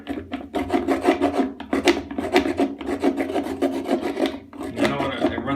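Close, loud, continuous rasping as a hard-water stain is scraped off a porcelain toilet bowl, in long steady strokes with brief pauses.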